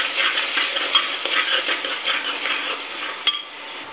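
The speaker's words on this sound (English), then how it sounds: "and we will just mix it well" Tomatoes and salt being stirred in a hot pan, a continuous bright sizzle with soft scraping strokes of a spoon throughout and one sharp clink near the end, close-up with no talking.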